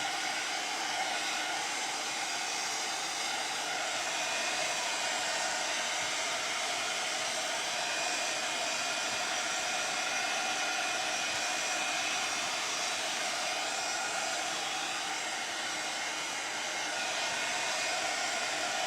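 A hair dryer blows steadily for the whole stretch, drying decoupage paper with a constant, close whooshing hum and no breaks.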